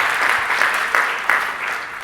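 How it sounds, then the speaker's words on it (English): Conference audience at a tech talk gives a brief round of applause, dense clapping with a few sharper claps standing out, continuing for about two seconds. "Give him a hand of applause."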